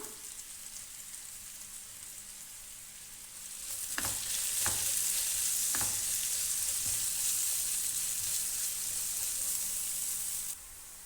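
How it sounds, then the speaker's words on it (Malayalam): Onions sautéing with salt in a pan for a Kerala-style egg roast, a constant sizzle that swells louder as a few stirring knocks sound, then drops back. "ഇനി സവോള പെട്ടെന്ന് വഴണ്ട് കിട്ടാൻ വേണ്ടിയിട്ട് ഒരു 1/2 ടീസ്പൂൺ ഉപ്പ് കൂടെ ചേർത്ത് നല്ല ബ്രൗൺ നിറമാകുന്നത് വരെ ഇതൊന്ന് വാട്ടിയെടുക്കണം"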